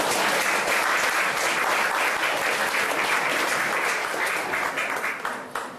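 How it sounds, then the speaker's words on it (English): Audience at an art exhibition reception gives sustained, full applause throughout, tapering into a few scattered claps at the very end. "Isn't that great? You can clap."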